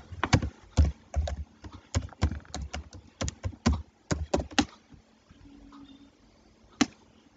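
Fingers type on a computer keyboard, entering details into an online form: close, irregular bursts of crisp keystrokes with brief pauses, then a long gap before one last key press.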